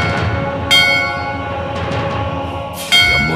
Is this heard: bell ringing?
yes